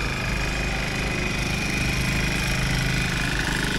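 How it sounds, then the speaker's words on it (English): A small tractor engine runs steadily and close by on a hillside property in Abruzzo, Italy, with a continuous low chugging rumble and a knocking, lawnmower-like rhythm. "Look at this for a tractor."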